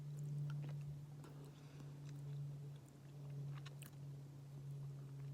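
Close chewing of curried chickpeas outdoors at a car-camping spot, soft rhythmic mastication over a steady low hum.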